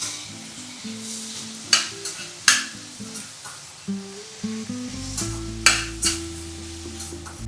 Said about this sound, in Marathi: 2 टोमॅटो घेतले. ओके. ते चांगल्या प्रकारे परतून घेऊया